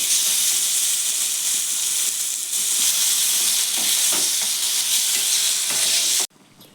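Tomato chutney made with dried red chillies frying and being stirred in a pan, a loud steady sizzle with scraping spoon strokes throughout, cutting off abruptly near the end.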